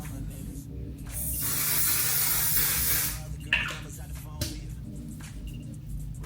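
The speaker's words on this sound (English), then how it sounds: "I'm gonna go in with the One Size setting spray before I apply my eyeliner and mascara." A setting spray bottle releases a sustained hissing mist of facial setting spray for about two seconds, followed by a shorter spritz and faint handling sounds.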